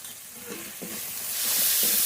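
Masala paste of ground ginger, garlic and green chilli with salt frying in a pan, a soft steady sizzle with a few scraping stirs, close and alone without voices.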